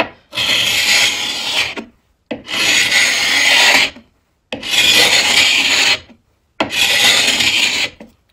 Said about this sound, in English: That finish is intact and not wanting to come off with my scraper.